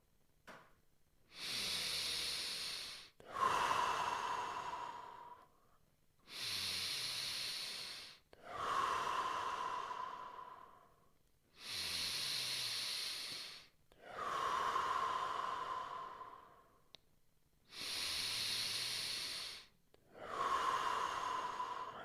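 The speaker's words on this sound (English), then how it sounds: "Breathe out everything." Deep exhalations in a slow breathing exercise, loud, close and airy, each breath out lasting a few seconds and separated by short quiet gaps, roughly eight in a steady rhythm with no talking.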